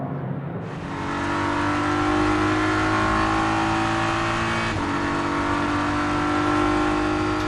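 Race cars in qualifying at the Bahrain 8 Hours endurance race, a loud sustained engine drone with steady high-pitched whine that swells as a car passes, no talking over it.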